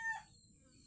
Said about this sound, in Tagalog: bahay ng mga ating alagang manok